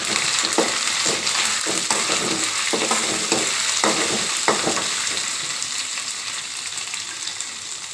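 Egg fried rice ingredients sizzle steadily in a hot pan, with a spatula scraping and stirring in a run of sharp, repeated strokes over a constant frying hiss, close and loud throughout.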